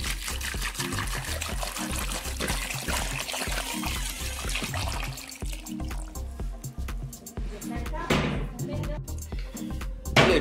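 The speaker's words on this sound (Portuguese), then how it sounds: "Agora eu vou colocar água até cobrir." Water poured into a pot of corn on the cob, a steady close trickling stream that carries on for several seconds, fades and then picks up again in a brighter burst near the end.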